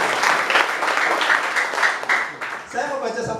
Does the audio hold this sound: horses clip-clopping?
no